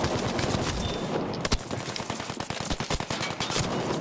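Battlefield V gunshots crack out in quick bursts, with sharp separate reports and a steady rattle of automatic fire running through the scene.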